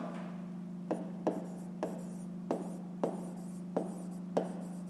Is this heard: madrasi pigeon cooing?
no